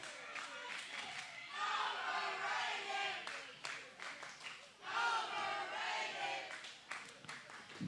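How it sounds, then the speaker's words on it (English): A wrestling crowd at an indie pro-wrestling show chants in rhythmic, rising and falling waves, loud and reverberant, with repeated group shouts filling the hall. "Crowd chanting overrated once again at Ultra Ego Brixton Shaw"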